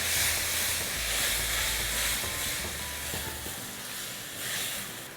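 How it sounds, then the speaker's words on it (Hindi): Tomatoes with salt and Kashmiri red chili sizzle in hot oil over high heat, a steady, bright frying hiss close up with soft stirring underneath. "अब इसे हाई हीट पर भूनना है"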